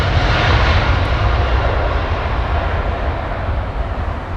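Engines of a Boeing 787-10 airliner at London Heathrow Airport roar loudly and steadily, a broad continuous jet rumble that slowly eases in level over a few seconds, with no voices.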